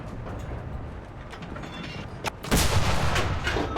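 Tank cannon firing in a video game: a loud, broad boom lands near the end, preceded by a faint sharp crack and a steady mechanical rumble throughout.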